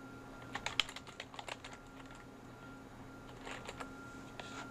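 Login credentials being typed on a computer keyboard, a quick burst of close key clicks at the start followed by a few scattered taps over faint room hum.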